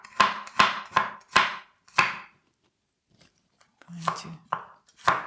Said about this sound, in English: you can mince it or chop it, whichever you prefer